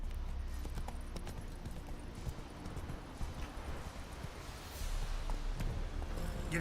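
Horse hooves gallop in The Witcher 3, a rapid, steady clip-clop that stays close and prominent from start to finish.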